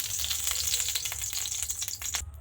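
Ghee sizzles and crackles steadily in a hot wok, a constant bright hiss with small pops and no voices.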